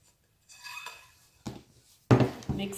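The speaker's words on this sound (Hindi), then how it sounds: "मिक्स करेंगे अच्छे से।" Flour is tossed into chicken wings in a bowl for a honey garlic wing coating, making three short rubbing, scraping bursts against the bowl. They are close and quiet, with no talking.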